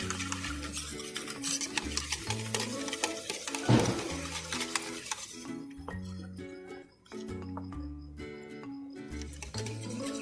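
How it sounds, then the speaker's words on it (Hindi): Mango flavour custard mixture is stirred with a spoon in a bowl, producing light scraping and clinking strokes over a soft musical background, including one louder knock partway through. "ये मैंगो फ्लेवर लिया है हमने कस्टर्ड। इसको अच्छे से मिक्स करना है।"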